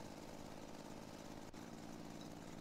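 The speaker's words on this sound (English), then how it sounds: "I hear a tractor running." A tractor engine runs steadily in the Farming Simulator 17 video game, a continuous loud mechanical drone with no breaks and no talk over it.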